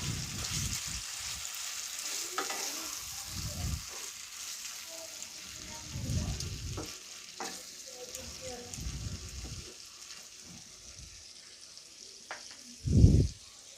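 Chicken with raw mango cooks in mustard oil, giving a soft, steady sizzle with low stirring thumps, a short louder burst near the end, and faint voice-like sounds in between.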